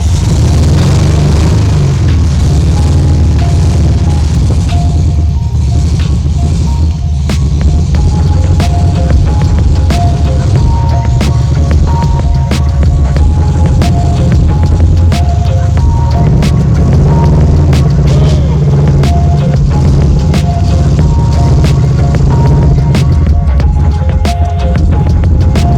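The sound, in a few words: Volkswagen Karmann Ghia engine starting and running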